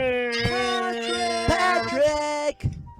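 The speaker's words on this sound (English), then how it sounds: "I hear this garbage dump is infested with cats." A cat at a garbage dump in a cartoon lets out a drawn-out, harmonic meow lasting over two seconds, followed by a short, quieter yowl at the end.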